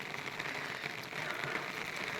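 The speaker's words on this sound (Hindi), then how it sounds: "रुक रुक के बारिश आ रही" Steady rain falls on surfaces outdoors in a hilly, foggy area, a soft continuous hiss of drops, fairly faint and even, with no voices.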